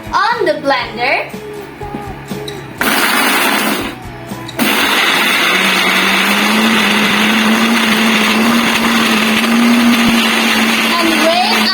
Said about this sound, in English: And then on the blender,